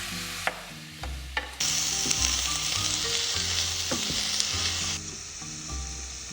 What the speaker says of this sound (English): I am about to put my vegetables into the pot